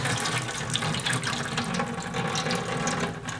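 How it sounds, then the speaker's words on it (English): Water pours steadily off soaked grain in a continuous splashing stream, close and fairly loud, with no talking. "So the next step is to dump this water off."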